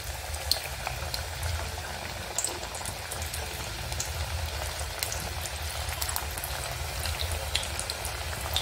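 Fenugreek snacks fry steadily in hot oil on a very low flame, a continuous close bubbling sizzle with scattered crackles and no talk.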